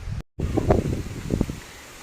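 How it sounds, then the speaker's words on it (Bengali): Stormy wind sweeps through village trees, leaves rustling in broad gusts that rise and fall, cut briefly by a sudden dropout early on, with no talking. "দেখো বেশ ঝড় হচ্ছে চারিদিকটা অন্ধকার"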